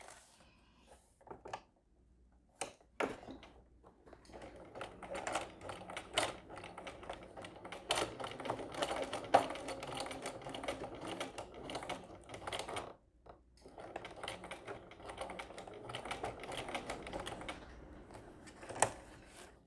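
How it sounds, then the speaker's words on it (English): A sewing machine stitches the final edge of a crossbody bag up to a D-ring, whirring in steady mechanical runs broken by short pauses and a few isolated clicks, with no voices. "Now I'm just going to sew along this final edge from that bottom corner up to the D-ring"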